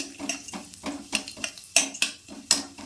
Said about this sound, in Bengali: তেল গরম হলে কালো জিরে ফোড়ন দিলাম, দিয়ে একটু